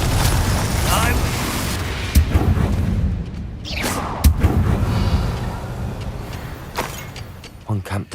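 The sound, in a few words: Confringo fire spell explosion in the Hogwarts Legacy video game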